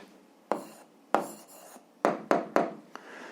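Pen or pencil scratching out an answer to a 7th-grade algebra exercise on paper, heard as six short, close strokes with quiet gaps between them.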